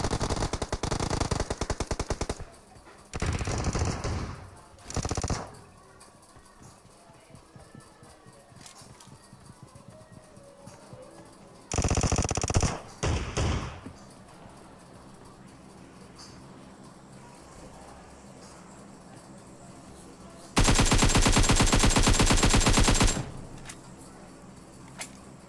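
PUBG Mobile gameplay carries several loud bursts of automatic gunfire and shotgun blasts, separated by quieter stretches of in-game movement and background noise.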